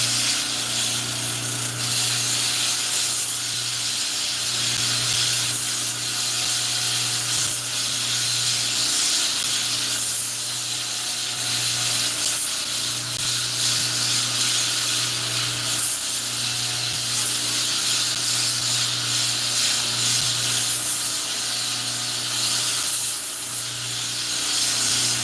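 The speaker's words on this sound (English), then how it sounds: "And now I'm going to do an underslack grind, so you just kind of round this out." A belt grinder runs steadily through an underslack grind, rounding out the handle of a large recurve bow, with a constant abrasive hiss over a low motor hum that stays even throughout, without talk.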